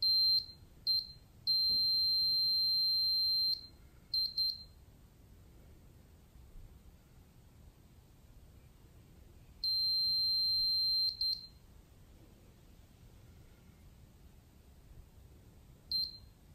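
SARCTRAC 3D sensor emitting high electronic beeps during calibration, in short chirps and long steady tones separated by quiet gaps, fairly clear over low background hiss.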